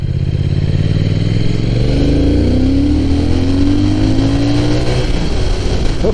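A motorcycle ridden through Tokyo streets, its engine loud and close throughout, with pitch rising as it revs and accelerates, plus steady wind and road rumble.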